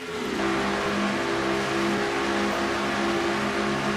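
Stock cars, including a Chevrolet, race through the fourth turn in a racing video game, their engines a steady, loud, droning roar with no talk over it.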